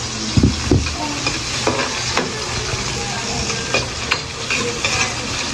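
Onions frying in a pan at the start of cooking kaldereta, a close steady sizzle broken by several sharp clinks and scrapes of a utensil against the pan, with no voices.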